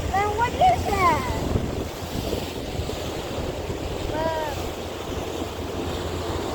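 Strong wind and ocean surf on the Atlantic coast make a steady, loud roar, with gusts buffeting the microphone throughout.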